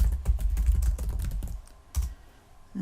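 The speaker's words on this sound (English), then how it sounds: "I'm just going to type in previous year." Fast typing on a computer keyboard, a close burst of rapid key clicks that slows to a few isolated taps before stopping.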